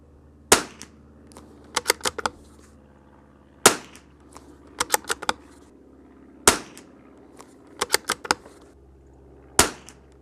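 A Lithgow LA101 rifle fires a five-round group: sharp, loud single cracks spaced a few seconds apart, each followed by the quick clicks of working the action.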